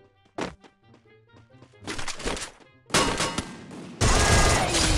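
Bursts of gunfire in the Free Fire mobile game: scattered sharp shots and thunks early, then dense rapid firing that grows louder and fills the final seconds, with no speech.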